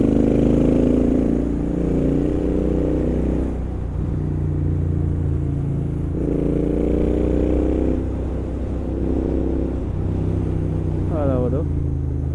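A Royal Enfield GT650 648cc cafe racer motorcycle pulls hard under throttle, its twin-cylinder engine droning loud and close with rising surges, briefly overlaid by other noise near the end.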